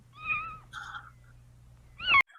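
A small kitten meows twice, a short mew and then a sharp higher cry that cuts off abruptly, with a brief squeaky sound in between over low background hum.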